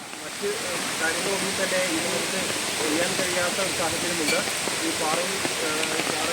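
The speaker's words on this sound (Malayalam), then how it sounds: "കനത്ത മഴയിൽ ചെളിയും കല്ലും താഴേക്ക് പതിക്കുകയാണ്" Heavy rain pours over the Wayanad mountain pass road where mud and stones are falling, a dense, continuous hissing roar under someone speaking.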